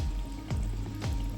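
Water from fish-holding IBC tanks trickles steadily through drippers in a home aquaponic vegetable setup, a soft continuous flow with two brief splashy surges.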